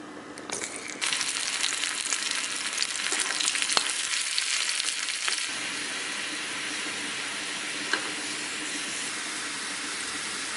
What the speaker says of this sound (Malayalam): ഇനി നമുക്ക് നെയ്യിൽ ചുവന്നുള്ളി മൂപ്പിച്ച് ഇതിലേക്ക് ചേർക്കാം.